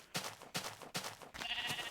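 Sheep in the video game Minecraft bleat three times in quick succession, short loud calls alone with nothing else around them.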